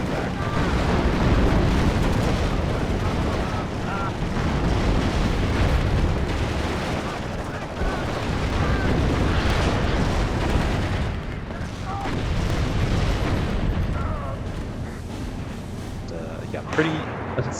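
Malka artillery salvos in WARNO, a 10v10 battle game, rumble as dense, continuous booms and blasts that roll on loudly for the whole stretch, with a speaking voice woven through the din.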